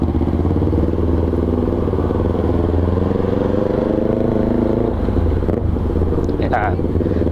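A big bike motorcycle being ridden, its engine a steady, loud drone with a rough, rumbling texture and a brief clatter near the end, heard up close throughout.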